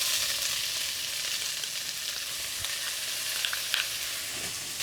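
Leeks and carrots sizzle steadily in hot oil in a pan, a continuous close frying hiss with small crackles, for a mushroom bourguignon.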